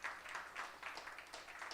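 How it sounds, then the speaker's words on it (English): A live audience at a 2015 local arts showcase gives a round of applause, faint and distant, with scattered claps in uneven bursts that swell and fade across the moment. "Give those guys a round of applause."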